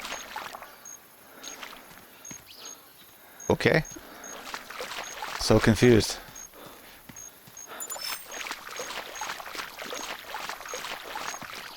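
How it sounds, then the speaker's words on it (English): Footsteps wading through water in theHunter Classic video game, soft sloshing splashes with two louder bursts of churning water, while someone talks briefly over the scene. "What water am I stepping through?"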